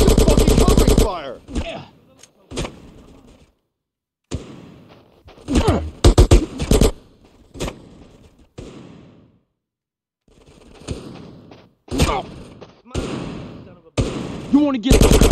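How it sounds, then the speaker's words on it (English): Bursts of gunfire from GTA San Andreas Remastered, sharp rapid volleys in irregular clusters separated by short silences, with someone shouting over some of them. "Give me some fucking covering fire."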